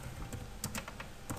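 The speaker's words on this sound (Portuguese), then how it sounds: "Então vamos digitar esses valores aqui no Minitab" Quiet clicking of computer keyboard keys as values are entered into statistics software, a quick irregular run of taps heard up close with no talking.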